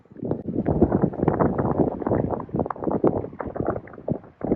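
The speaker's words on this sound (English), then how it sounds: "the wind is so terrible up here" Strong wind buffets the microphone on a high, exposed spot, producing a continuous loud, low rumbling roar with uneven gusty surges throughout and no clear voices.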